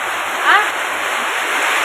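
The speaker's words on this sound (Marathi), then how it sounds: "इकडं पाणी गळायला लागलंय. धार काय बंद होई नाही." Rainwater leaking through a house roof during a sudden storm makes a steady, close rushing and splashing stream of water, with a voice briefly heard over it.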